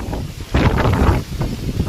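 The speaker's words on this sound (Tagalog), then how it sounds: "Malakas yung hangin, no? Naririnig pa nga eh." Strong gusts of typhoon wind buffet the microphone in loud, rumbling bursts, surging and easing over a couple of seconds.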